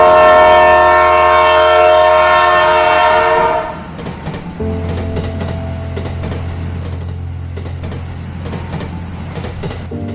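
A train rolls along the tracks, its loud horn sounding for the first few seconds before giving way to a steady rumble and rhythmic clickety-clack of the wheels.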